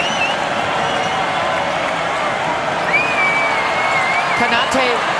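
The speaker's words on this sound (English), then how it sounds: "Listen to the crowd." A crowd at a UC Irvine versus Gonzaga NCAA tournament first-round basketball game keeps up a steady, dense roar, with a commentator talking over it.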